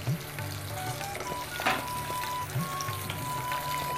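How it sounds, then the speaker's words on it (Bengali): Steamed taro frying with spices in a pan sizzles steadily and close up, with a few stirring scrapes and light clinks over the continuous crackle. "এবার এটা দিয়ে কচুটা একটু দেবো, যাতে কচুটা একটু মশলার সাথে ভাজা হয়ে যায়"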